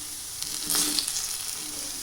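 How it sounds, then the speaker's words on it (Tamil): Paneer candy being stirred in thickening sugar syrup in a kadai with the stove off, a faint bubbling hiss with a brief louder scrape of the spoon midway. "இந்த டைமில் ஸ்டவ்வை ஆஃப் பண்ணிவிட்டு இதை வந்து கொஞ்சம் கிளறி விட்டுட்டே இருக்கணும்"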